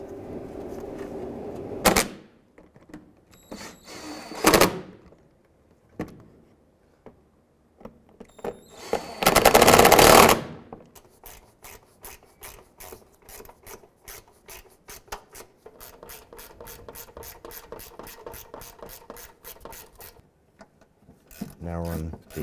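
Radiator fan assembly bolts on a 2001-2007 Ford Escape are snugged down, with scraping, a few knocks and then a long run of quick, even ratchet clicks, close and fairly quiet.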